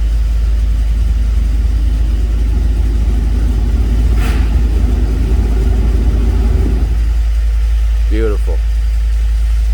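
A 2013 Ford F-150 truck engine idles with a steady low rumble up close, running evenly under people talking until the sound drops away.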